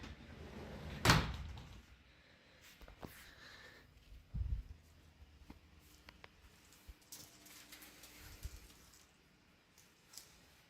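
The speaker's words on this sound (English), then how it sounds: "Just gonna close the door because it's getting a little chilly." A door swings shut with one loud thud near the start, followed by softer knocks, shuffling and small handling sounds in an indoor room.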